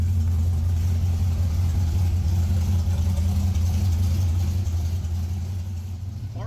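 A carbureted V8 in a classic beater car with a 4-speed idles steadily up close, a deep, even low rumble that continues unbroken and fades slightly at the end.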